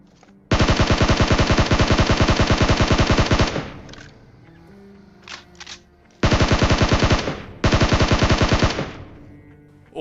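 Rapid automatic gunfire in a video game firefight, ending in a headshot kill: a long sustained burst of shots, a pause with a couple of brief sounds, then two more close, loud bursts.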